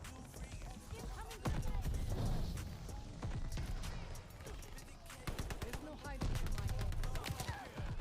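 Bursts of Owen Gun automatic fire in Call of Duty: Vanguard hardcore mode, rapid and close, repeating through the stretch over footsteps and other game noise, with a voice talking throughout.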